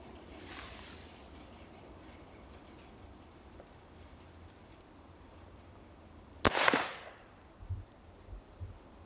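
A single sharp gunshot from a Colt Pocket .31 black powder revolver cracks out after a quiet stretch, followed by a brief rushing tail and a few faint thumps.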